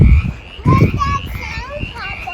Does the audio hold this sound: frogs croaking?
yes